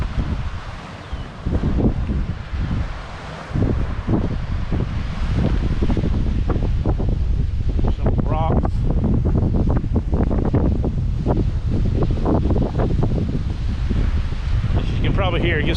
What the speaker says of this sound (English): it gets pretty windy here